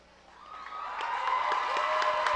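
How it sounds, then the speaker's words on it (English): Crowd applause and cheering for the Shelton dance team at a high school football halftime, swelling from quiet to a steady roar of clapping and whoops, heard at a distance with a faint tone underneath. "Give them a round of applause."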